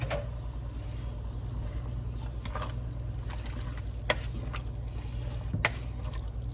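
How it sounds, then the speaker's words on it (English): Canned beans go into a pot of game day chili and get stirred, giving soft, faint wet sloshes and a few light scrapes and clicks of a spoon against the pot, irregular and close. "And now I'm going to add my my beans and give them a stir."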